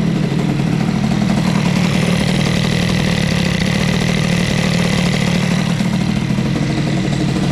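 A CPI 70 scooter engine fitted with an Airsal kit, running a little lean, idles loudly and close with a steady, buzzing two-stroke drone and a rough crackling edge, no voices over it.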